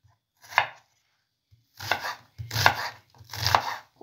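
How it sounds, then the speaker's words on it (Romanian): Two onions are chopped into cubes on a board: a lone knife strike, then three quick bursts of rapid close chopping, with no voices. "Tăiem două cepe"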